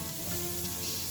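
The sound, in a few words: pork belly frying in a wok over medium heat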